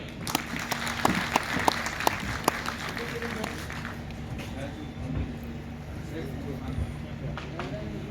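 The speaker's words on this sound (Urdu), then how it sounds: "ایک بار پھر ہماری اپنی بیٹی کے لیے زوردار تالیاں" Applause from a crowd at a Republic Day event, with scattered sharp claps, steady and moderately loud over a murmur of voices, fading slightly toward the end.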